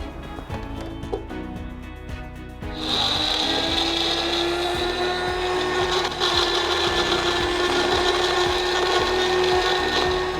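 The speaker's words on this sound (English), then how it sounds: "After that I'll blend this into a nice mixture." An electric kitchen blender roars to life after a few seconds of quiet clatter, then whirs steadily and loudly as it purees coriander root into a mixture for Thai-style steamed fish with lemon and chilli.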